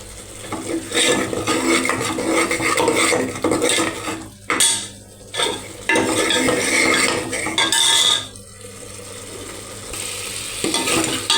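A spoon scrapes and clatters in a pan as potato curry is stirred over raised heat, loud and close with steady frying sizzle, brief pauses between strokes, and no talking.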